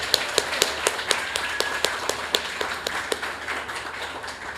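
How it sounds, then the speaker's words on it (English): Thin, scattered clapping from a festival welcome audience applauding librarians and their support staff: sparse, fairly quiet claps ticking steadily for a few seconds over a soft room hush. "Let's give them a big round of applause for the work they do"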